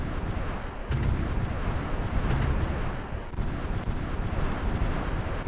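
Dense, rumbling volleys of cannon fire in the strategy game Supreme Ruler Ultimate, with booming shots overlapping continuously and loudly throughout, without pause.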